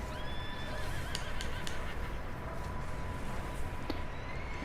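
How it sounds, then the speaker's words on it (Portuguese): Horse neighing in the Red Dead Redemption 2 video game, a few short whinnies over a steady bed of ambient outdoor noise, moderately close but fairly quiet. "Cavalo."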